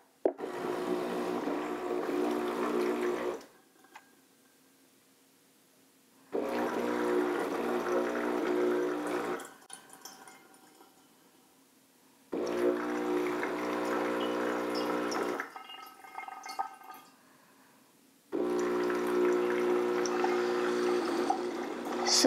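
A Breville Precision Brewer Thermal coffee machine runs its first-use water flush in repeated bursts, a pump humming and water pouring for a few seconds at a time, separated by quiet pauses with faint drips.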